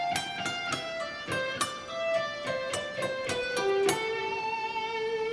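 A harmonized lead guitar lick, with two guitar lines moving together in rapid, sharply picked notes and a few held tones. The playing is loud and alone.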